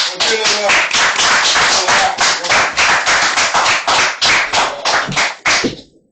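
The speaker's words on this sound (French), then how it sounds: "On l'accueille dans un tonnerre d'applaudissements." A studio audience breaks into dense, loud applause to welcome a guest onto a French debate show set, many hands clapping steadily for about six seconds before the sound cuts off sharply.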